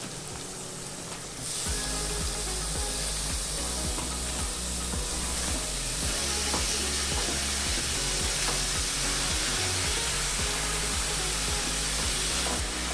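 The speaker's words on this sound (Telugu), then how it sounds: "అలాగే తురిమి పెట్టుకున్న ముల్లంగి కూడా వేసుకొని బాగా వేపుకోవాలి." Grated radish sizzling and frying steadily in hot oil in a pan for a radish and egg fry, a loud continuous crackle with occasional stirring.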